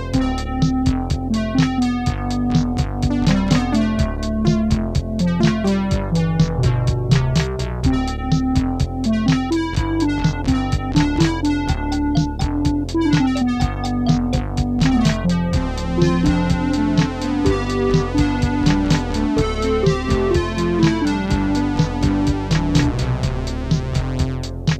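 Rough multi-track song played back from a Tascam 4-track cassette recorder, a dense full mix of layered instruments with steady rhythmic hits and sustained tones running continuously at an even, loud level.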